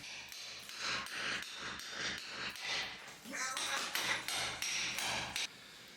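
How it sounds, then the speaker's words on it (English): An SDS drill chiselling through a small kitchen during demolition of a rural Italian homestead, beating out a steady run of sharp, loud repeated impacts with brief pauses, while a person talks over it. "So this SDS drill, it just works temporarily"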